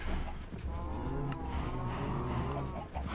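Minecraft sheep bleat in a drawn-out, wavering baa at moderate level, with a few soft game sounds around it.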